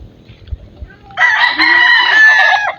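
Chickens at a rural Philippine yard: a rooster lets out one long, loud, close crow after a second of soft clucking and low background noise.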